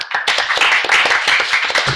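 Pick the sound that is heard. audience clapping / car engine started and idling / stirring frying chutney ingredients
audience clapping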